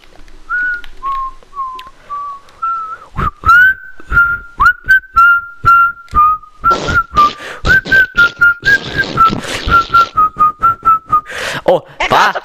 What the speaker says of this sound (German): Pfeife ist ziemlich laut.